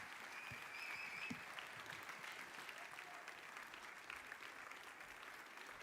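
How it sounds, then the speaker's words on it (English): A church audience applauds after a sermon, a steady, even wash of many clapping hands heard from a distance and faintly, with no voices rising above it. "Keep clapping, man"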